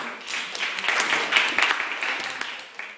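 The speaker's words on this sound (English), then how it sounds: "Give them a clap" An audience at an education equity event claps together, a lively, fairly close patter of many hands with scattered sharper claps, continuing steadily for a few seconds.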